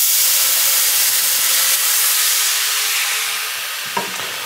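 Dry white wine poured into a hot pan used for chicken saltimbocca bursts into a loud, hissing sizzle that slowly fades over several seconds, with a small clink near the end.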